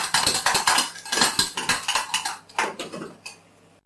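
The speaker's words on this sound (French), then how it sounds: "J'épluche la pomme." A knife scrapes repeatedly against an apple and a plate, producing a quick run of close metallic clinks and scraping strokes that slow and fade toward the end.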